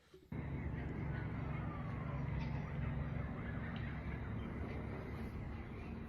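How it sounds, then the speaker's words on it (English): A steady wash of distant city noise with a faint wailing siren and the low, continuous rumble of a helicopter overhead. "The siren and the helicopter flying around."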